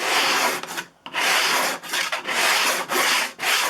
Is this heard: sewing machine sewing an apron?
no